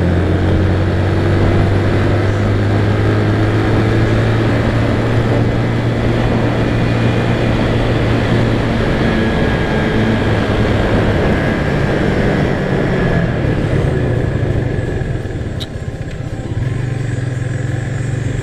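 Vento Rocketman 250 cc motorcycle riding through curves and braking, a loud continuous engine drone with shifting revs and steady wind rush, close and unbroken throughout.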